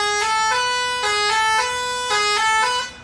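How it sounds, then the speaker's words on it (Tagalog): A musical horn on a decorated pink vehicle plays a loud, repeating tune of sustained, harmonically rich tones that step between pitches for about three seconds before cutting off. "4-feet na busina at yung musical."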